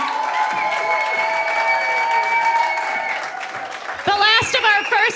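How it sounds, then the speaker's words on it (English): An audience claps for performers at a Bushwick Book Club stage show in Seattle, sustained applause with a tonal backing and a voice rising near the end. "Can we have another round of applause for them and for all of our Bushwick debuts?"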